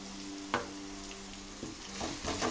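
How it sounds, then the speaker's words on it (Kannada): Eggplant frying in a pan for a Kannada-style ennegayi curry, a steady close sizzle with a few sharp scraping stirs and clinks breaking through, no talking. "ಈಗ ಬದನೆಕಾಯಿ ಎಲ್ಲ ಸ್ವಲ್ಪ ಫ್ರೈ ಆಗಿದೆ"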